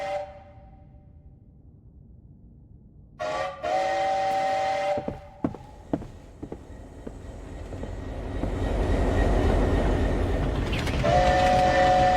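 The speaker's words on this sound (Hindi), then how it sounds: "वैसे ही आवाज़ डाली हुई है जैसे ट्रेन से होती है।" A video game train arriving at a night-time station: a loud horn blast, clanking of the rail cars, another horn, then a rising, steady roar of the train rolling in, and a final whistle.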